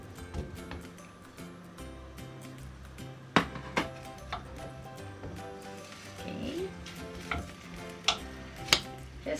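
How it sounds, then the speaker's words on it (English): Onions frying in a hot pan for a chicken curry, a soft continuous sizzle beneath clatters of a spoon or spatula and scattered sharp knocks, with faint background hum. "Fry our onions"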